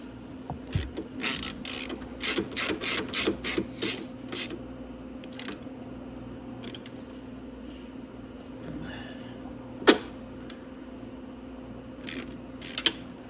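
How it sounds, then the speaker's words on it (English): A wrench tightens the motor mount bolt on a Venom x22GT 250cc motorcycle, its ratchet clicking close in a quick rhythmic series early on, then scattered clicks and one sharp metallic knock over a steady hum. "I'm gonna go ahead and tighten up this motor mount, just so I don't forget."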